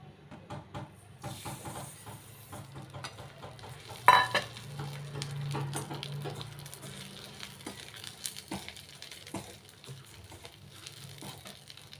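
Sesame seeds roasting in oil for sweet sesame laddus, giving a low steady sizzle and crackle with scattered stirring scrapes and one sharp clink against the pan.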